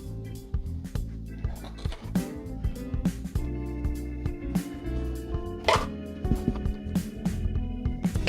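Corn and vegetables sprinkled into a pan for cottage pie, with repeated soft plops and patters landing over a steady background hum.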